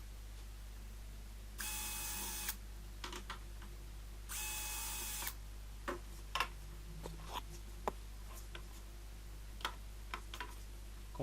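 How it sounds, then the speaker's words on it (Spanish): Small 1 mm drill bit boring tiny holes for fishing-line threads in a tensegrity model part, heard as two brief, bright whirring bursts among soft scattered ticks and clicks, close and fairly quiet with no talk. "Ahora haré los 4 agujeros para los sedales. Esta broca es de 1 milímetro, es muy fina."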